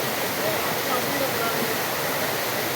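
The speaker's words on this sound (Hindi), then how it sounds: "ज़बरदस्त नज़ारा है बिस्सा वाटरफॉल का।" Bisa waterfall pours down in a constant, loud, broadband rush of water that fills the whole moment without a break.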